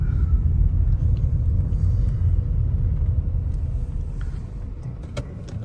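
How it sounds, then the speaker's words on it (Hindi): A car engine rumbles loud and close at low pitch while the car is parked, easing slightly toward the end. "गाड़ी करते हैं यहाँ पे स्टॉप"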